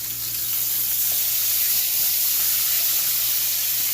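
A T-bone steak fries in a hot pan just after being flipped, giving a steady, loud, broadband sizzle and hiss that runs unbroken and close by, with no voices.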